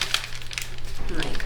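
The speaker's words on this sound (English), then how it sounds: "you're going to open and squash fold this" Origami paper opened and squash folded for a fiery dragon model, brief close crinkling and crisp paper rustles over a second and a half, with a voice speaking underneath.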